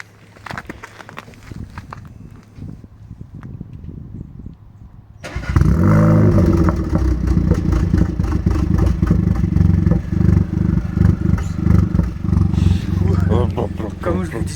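A 2018 SEAT Leon 5F fitted with a downpipe starts up after a quiet stretch of footsteps and movement, then settles into a loud, steady, close-up idle that rumbles on to the end.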